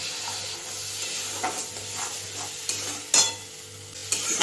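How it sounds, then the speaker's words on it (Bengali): Vegetables cooked with tomato paste are stir-fried in a pan on a home stove: a soft steady sizzle with a few sharp scrapes and clinks of the spatula against the pan. "টমেটো পেস্ট দিয়েছি, এবার এটাকে ভালো করে একটু কষাবো।"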